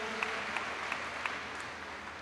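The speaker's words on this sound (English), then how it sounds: "Let's give him an applause" Applause for Representative Howard Mosby at a county recreation center grand opening: steady, dense crowd clapping heard from a distance, fairly quiet and even throughout, with a few sharper claps standing out.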